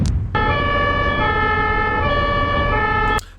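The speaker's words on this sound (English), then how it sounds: "How Germans react to ambulance sirens." A German ambulance siren plays from a video, sounding as a loud, steady electronic wail that runs for about three seconds with nothing else over it.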